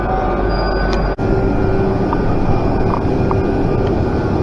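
A steady, loud rumble of a Pendolino tilting train idling or rolling slowly nearby, with broadband mechanical hum and a brief dropout partway through.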